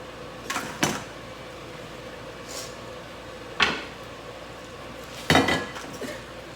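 Plates and dishes are handled in a home kitchen, with several separate clinks and knocks of crockery at irregular intervals against a quiet background, close and fairly loud.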